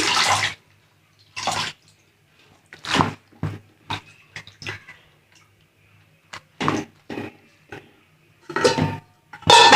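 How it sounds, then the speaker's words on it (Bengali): Water splashing into a kadai ahead of boiling cauliflower leaves, arriving in several separate loud gushes with short silent gaps between pours, close up and without talk. "কড়াইতে জল দিয়ে দিছি।"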